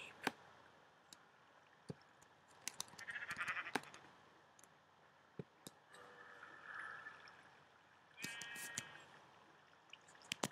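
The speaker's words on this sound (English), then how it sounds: "I hear sheep. Sheep. Oh, sheep." Several sheep bleats from the video game Minecraft, faint and somewhat distant, spaced out over a quiet background with occasional sharp clicks and ticks.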